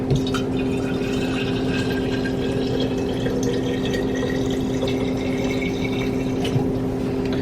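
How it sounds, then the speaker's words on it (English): Water pours from a jar into a slow cooker of lasagna layered with noodles and sauce, a steady, close splashing flow that runs without a break for several seconds. "And I'm going to add some more water."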